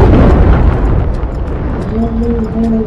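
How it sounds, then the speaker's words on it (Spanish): Booming explosion effects from the video game It Takes Two rumble loudly and continuously, with a sustained tonal whine emerging toward the end. "Ni Hollywood tiene esos efectos de explosión."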